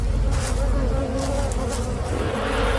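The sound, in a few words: bees buzzing at a beehive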